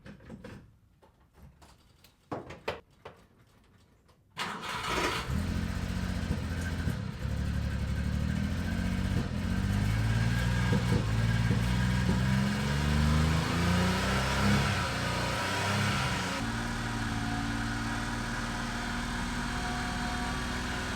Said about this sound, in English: Let's get the mini truck fired up and out of the way.